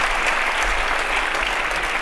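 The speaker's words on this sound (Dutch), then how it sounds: "Geef ze een groot applaus." A theater audience in Tilburg applauds, dense and loud, a continuous wash of many hands clapping across the whole two seconds.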